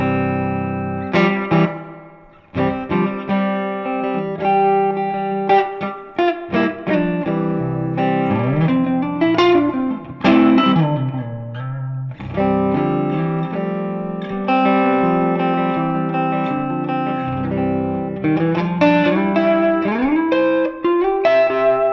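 Electric guitar played through a Strymon Flint reverb pedal, a run of chords and single notes with bends, each ringing out in a wash of lingering reverb, close and steady, no talking.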